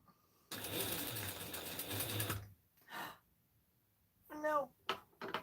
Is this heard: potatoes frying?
no